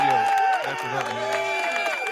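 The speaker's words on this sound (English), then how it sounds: "let's give Jason's wonderful wife, Christy Smith, some applause for her birthday" Studio applause and cheering for a birthday, with scattered claps and whoops under overlapping voices throughout, briefly and fairly close.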